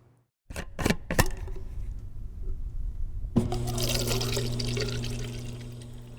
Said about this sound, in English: right here at this brand new free-to-use water bottle refilling station